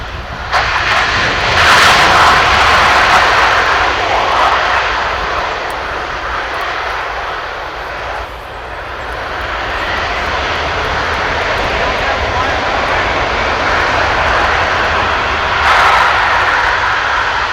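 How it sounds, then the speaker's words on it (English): Loud, continuous roar of a C-17 transport jet close by, landing with reverse thrust at an air show, swelling and easing as engine thrust builds on the runway. "this is about as much noise as this airplane is ever going to make"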